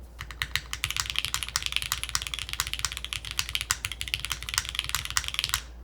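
Brisk, steady typing on a Neo65 Core Plus keyboard with Milky Yellow switches, foam, a palm plate and GMK keycaps, giving dense, even keystroke clicks close up with no talking.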